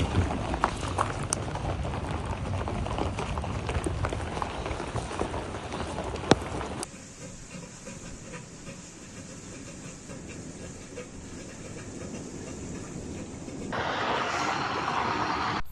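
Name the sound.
hailstones falling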